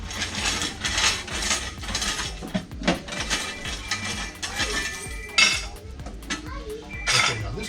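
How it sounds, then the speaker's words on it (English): Keys jangle and scrape against the lock of a flea market arcade machine, a busy run of close metallic clinks, rattles and clicks that keeps going with brief pauses throughout. "let's see if I know which key opens this machine"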